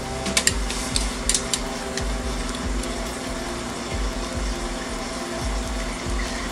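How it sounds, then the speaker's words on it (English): Steady bubbling and churning of water boiling in a pot, with a low, continuous rumble, a few light clinks near the start. "Okay, our water's boiling."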